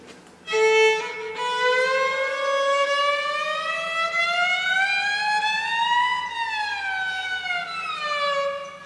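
A single sustained bowed violin note sliding steadily upward in pitch for several seconds as the string is shortened, then dipping slightly, bright and buzzy, with no talking.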